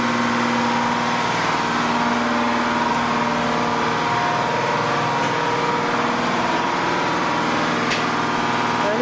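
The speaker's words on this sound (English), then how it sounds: "Back here are the generators and stuff." Generators and engines droning steadily inside a tugboat engine room, a loud continuous mechanical hum with low tonal throb, close and unbroken throughout.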